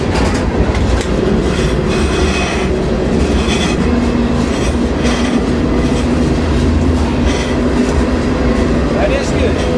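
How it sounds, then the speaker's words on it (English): A train running on rails, with a continuous loud rumble, rhythmic clickety-clack of the wheels and occasional squeals, heard from on board under some talk. "Pretty sure this is the right train."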